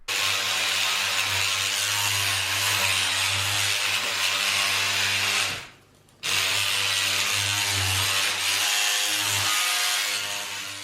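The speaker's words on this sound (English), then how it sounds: "It is a noisy tool, and this is what it sounds like." A Rubbermaid powered cleaning scrubber from Bunnings runs loudly with a steady motor whine and rough scrubbing noise, cutting out briefly for about half a second before starting up again and continuing.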